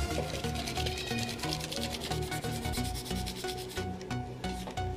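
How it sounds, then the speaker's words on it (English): A finger rubs a screen protector onto the rear screen of a Canon 1300D camera, making a steady, fairly loud rubbing swish that carries on without pause over background music. "So let me just give a little rub."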